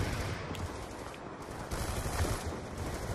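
Sustained gunfire from the video game Black Ops 2 rattles in loud, overlapping volleys and single shots, a continuous firefight with no talk over it.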